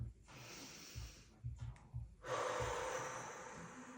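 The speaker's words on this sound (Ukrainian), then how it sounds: "Ось так виглядає діафрагмальне дихання." A deep diaphragmatic breath is drawn in near the microphone: a few short sniffing catches, then one long, full, airy inhalation that fades out.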